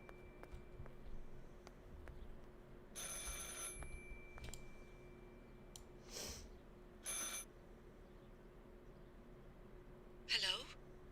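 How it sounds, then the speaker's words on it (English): A telephone rings in the horror video game Martha Is Dead, several separate bursts of ringing spaced apart over a faint steady background hum, with a louder final ring near the end. "I should pick up the phone but remain silent."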